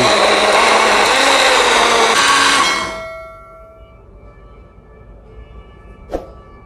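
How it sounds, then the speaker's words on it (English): A kitchen blender whirs loudly at high speed, then winds down and stops partway through, leaving a faint room hum and one short clunk near the end. "I transferred it into this blender, so I want to blend it"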